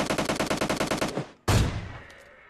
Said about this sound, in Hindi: तो भाई मैं इसके 2 शॉट मारता हूँ